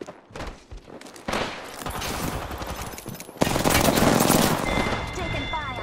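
Heavy gunfire in a battle royale game, dense bursts of automatic fire and shots rattling throughout, growing louder and denser in the second half, with game voice callouts mixed in.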